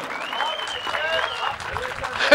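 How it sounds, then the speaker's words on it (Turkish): Crowd applause at a fight between Ramazan Sarı and Daryosh Sanjar, a brief patter of clapping in an arena running under a commentator's voice and other chatter. "Manisa, koçum bir alkış alalım mı?"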